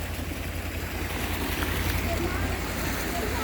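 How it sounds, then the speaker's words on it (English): Floodwater on a flooded homestead pours down as a new waterfall, a steady broadband rushing roar with a low rumble beneath, continuous and fairly close, with a voice speaking over it. "Well, that waterfall wasn't there before."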